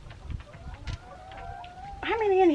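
Laying hens cluck and call close by in a small pen, with drawn-out tonal squawks building toward a loud closing cry, while a person talks faintly underneath.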